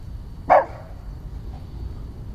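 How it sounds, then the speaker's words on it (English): One short dog bark sounds once, fairly close, then quiet low background noise continues. "What are you barking at?"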